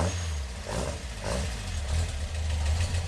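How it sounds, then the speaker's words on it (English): A Westfield sports car engine runs close by with a steady low rumble and a slight rise in revs partway through, settling into an even idle. "He runs the idles all right. He started well enough."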